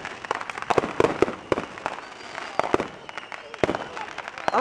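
Fireworks going off in a stormy rain, repeated sharp cracks and booms scattered irregularly over a steady wash of rain noise, with voices talking in between.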